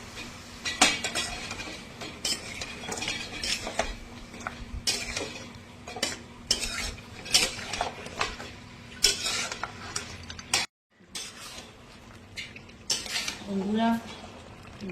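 Fish head curry being stirred in a pan, a spoon scraping and clinking against the metal in irregular strokes with a brief silent gap, over a steady low hum.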